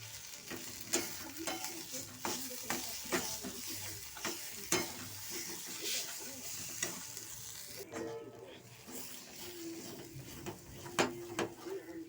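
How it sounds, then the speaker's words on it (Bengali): Spice masala for stuffed bitter gourd fries and sizzles in a pan at close range, with repeated scraping stirs and clinks of a spoon over a constant sizzle. "মশলাটাকে এইভাবে নাড়তে নাড়তে শুকিয়ে ফেলতে হবে।"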